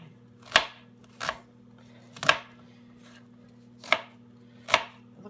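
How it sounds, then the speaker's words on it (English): A knife chops through cabbage on a cutting board for stuffed cabbage: five crisp, separate thunks with short irregular gaps, close and clear over a faint steady hum. "I just chop it"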